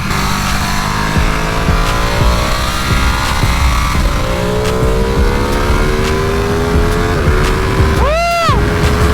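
A Ducati Panigale V2 sportbike on a track lap, its engine roaring loud and close with rising revs through the gears, wind rush throughout and a sharp downshift burst near the end.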